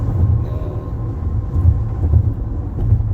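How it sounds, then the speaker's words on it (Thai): Train passing in the USA, a steady low rumble and rolling rail noise, loud and continuous throughout with no speech. "รถไฟ"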